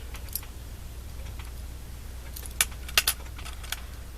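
A small metal zipper pull embellishment handled at a craft table, giving light, close metallic clinks and jingles in a few quick clusters over a quiet room hum.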